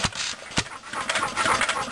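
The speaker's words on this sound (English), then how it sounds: "The familiar hit and miss sound." A hit-and-miss engine mounted upside down, running with irregular bursts of firing and coasting, loud and close with a rough mechanical rhythm of uneven pops.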